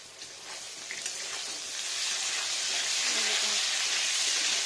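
Potatoes salted and frying in a pan for a Bengali hilsa fish curry, giving a steady broadband sizzle that swells slightly louder toward the end, with no talking over it.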